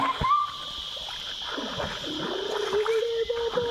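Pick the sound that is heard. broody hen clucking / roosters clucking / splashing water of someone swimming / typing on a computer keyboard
splashing water of someone swimming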